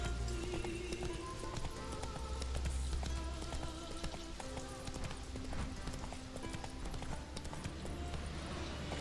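The horse Roach gallops in The Witcher 3, its hooves drumming in a steady clip-clop rhythm over game ambience, with a voice speaking faintly at times.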